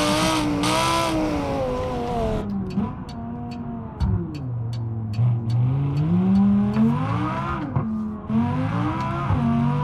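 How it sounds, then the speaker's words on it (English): A Lamborghini SVJ in BeamNG.Drive drives on dirt, its engine revving loudly and rising and falling in pitch through gear changes. A faint rapid ticking and tyre noise run underneath, with no talking. "I'm driving a Lamborghini on dirt!"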